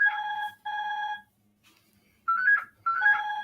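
A phone ringtone plays in repeated bursts, a bright melodic electronic tone sounding twice, pausing, then twice more, fairly loud and with no talk over it.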